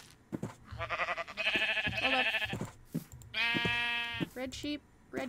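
Sheep in the Minecraft video game bleat in two long, loud, wavering calls, close and clear, with a few short game clicks between them and no talk over the cries.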